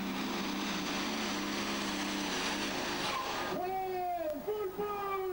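A tractor-pulling competition tractor's powerful engine roars steadily at full pull, then its pitch rises and wavers as it strains under load, with someone talking over it.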